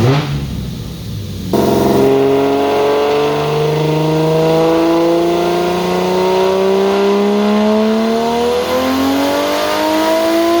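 A 1JZ-powered Lexus IS300 drift car of about 700 horsepower revs hard on a dyno, a sharp blip opening into a long, loud, steadily climbing engine pull that holds near full throttle to the end.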